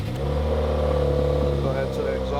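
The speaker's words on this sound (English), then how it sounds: "Cold start." Subaru WRX with an FA20 engine cold-starting, a steady low engine drone with strong harmonics holding loud and even throughout.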